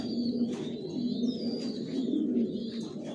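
Racing pigeons in a breeding loft coo steadily in low, rolling repeated phrases, close and continuous, with faint higher chirps above.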